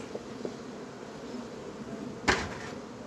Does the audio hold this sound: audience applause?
no